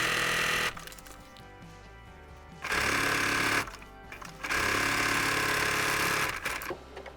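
A home sewing machine stitches knit legging fabric with an elastic straight stitch, running in three loud, steady bursts of rapid motor whir with short pauses between, close up and with no talking.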